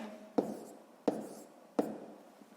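Pen or pencil tapping and scratching out numbers by hand while working a sixth-grade math exercise, three crisp strokes spaced evenly, close and quiet.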